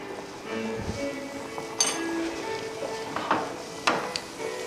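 Pork medallions are stirred in a buttered pan on the stove, with a soft sizzle under a few sharp metallic clinks of utensil against the pan.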